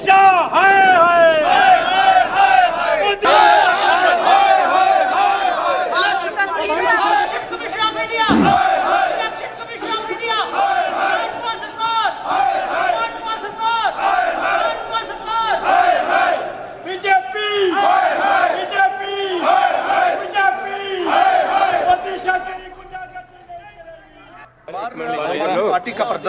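A political party's protest crowd in Jammu and Kashmir chants slogans in loud, rhythmic unison, the massed voices rising and falling in repeated call-and-response bursts that continue almost without a break.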